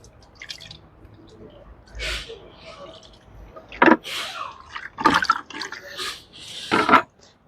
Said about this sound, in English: I'm just going to take a little bit of water and clean this up